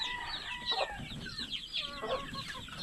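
Chickens cluck continuously at close range, a hen with her chicks, with soft peeping and overlapping calls throughout and no talking.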